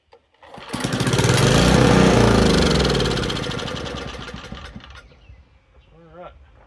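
A vintage Homelite generator engine, long unused and mounted on a Penncraft mower deck, catches and roars loudly up close with a steady rough running note, then fades out near the end, where a voice talks briefly.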